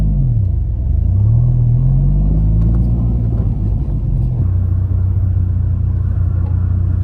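A Dodge Viper's engine accelerates in a loud, close, deep rumble, its pitch climbing sharply and then settling into a steady low drone, with no voices over it.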